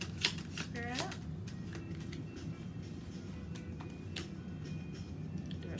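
Tarot cards are shuffled briskly near the microphone, a rapid riffling flutter, followed by soft scattered taps and quiet handling sounds.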